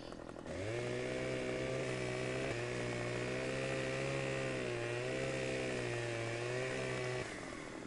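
Chainsaw from a farming video game, its motor running steadily and loudly for several seconds with a slight waver in pitch as it cuts wood, then cutting off near the end, with no voices over it.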